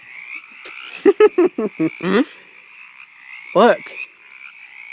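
Loud frog croaking up close: a fast run of five or six pulsed croaks, then a single longer croak a moment later, over a steady high insect-like drone, with a brief voice heard.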